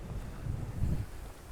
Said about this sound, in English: it gets really windy